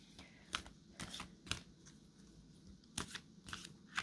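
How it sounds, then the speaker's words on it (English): A deck of cards is shuffled in a quiet room, giving a series of quick riffling bursts at a fairly steady rhythm, faint and close. "I don't know why, but I started shuffling, so maybe another card's supposed to come out."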